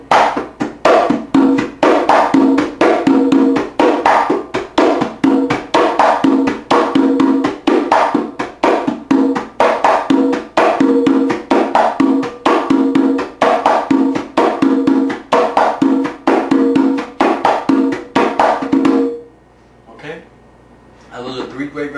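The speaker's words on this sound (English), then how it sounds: "it's going to sound something like this when I use more slaps on my left hand" Conga drums play a salsa tumbao with extra left-hand slaps, a steady rapid rhythm of sharp slaps and open tones, loud and close. It runs for most of the clip, then stops into near silence.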